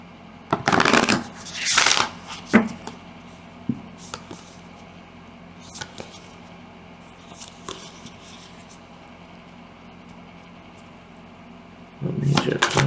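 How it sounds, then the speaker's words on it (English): Akashic Tarot cards being shuffled to draw a major arcana, with soft riffling bursts near the start, a few scattered taps and flicks in a quiet room, and another burst of shuffling at the end. "I'll pull one major arcana from the Akashic Tarot."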